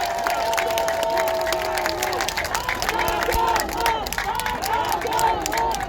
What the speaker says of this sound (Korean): 우리 큰 박수 한번 부탁드리겠습니다